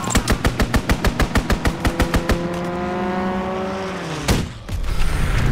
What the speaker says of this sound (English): Enemy strafing run incoming.